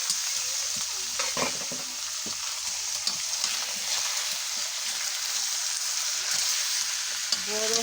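About two kilograms of beef fries in a large pot over a clay stove, giving a continuous loud sizzle broken by repeated scraping stirs and clanks; no talking.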